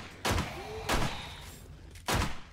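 Three loud, sharp gunshots spaced about a second apart ring out in the survival video game 7 Days to Die: Darkness Falls, each with a thudding low tail and a steady background hum between them.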